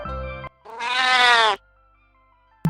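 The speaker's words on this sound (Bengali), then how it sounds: "বিড়াল" A single drawn-out cat meow, loud and close, in a children's animal-sounds quiz. It rises and holds for about a second after a brief musical sting, then gives way to near silence.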